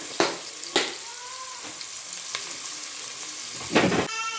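Onions fry in oil with a steady close sizzle and crackle. A few louder scrapes of stirring come at the start and a heavier burst comes near the end.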